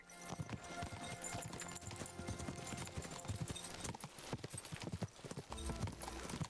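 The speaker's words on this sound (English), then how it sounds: "our horse is really, really fast" Rapid hoofbeats of a galloping horse in Kingdom Come: Deliverance II, a steady driving clip-clop rhythm running throughout, fairly close and moderately loud.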